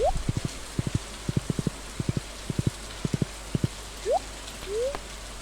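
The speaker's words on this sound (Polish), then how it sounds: "Pada deszcz." Steady rain hisses in the game Stardew Valley while clusters of quick footstep taps repeat in a rhythm, with a few short chirps near the end.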